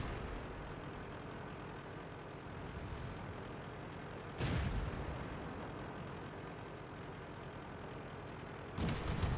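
Tank cannon fire in the World of Tanks video game: two heavy, booming shots land several seconds apart over a steady, rumbling engine and battle backdrop.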